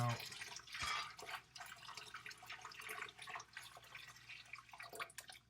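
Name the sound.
water being dumped out of a jar while canning pickles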